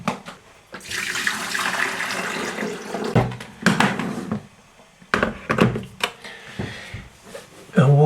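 Tap water runs in loud gushing bursts through a Brita water filter jug, starting and stopping several times with clunks of the jug being handled.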